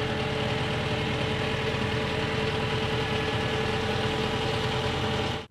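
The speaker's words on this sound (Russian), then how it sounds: "Нажимаем на газ и поднимаем ковш." A mini loader's engine revs steadily while the bucket rises, a loud, close, rough mechanical drone holding even throughout before cutting off abruptly at the end.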